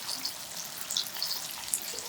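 Thinly sliced pork belly stir-frying over medium heat in a wok-style pan, a soft steady crackle and hiss with faint wet spatters, close and fairly quiet throughout.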